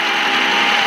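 A tractor engine running rough, a steady mid-pitched drone with a faint uneven knock, loud and close, alone for just under a second.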